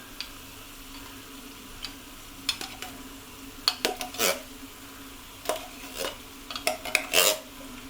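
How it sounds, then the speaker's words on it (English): Baked beans tipped into a pan for a vegetarian savoury pancake bake, then stirred with a utensil that clinks and scrapes against the metal in irregular bursts, close up and fairly quiet, with no talking. "I'm going to add the baked beans."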